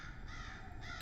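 A person imitates a bird with a hoarse, crow-like caw, one drawn-out call with a brief break, heard fairly faint.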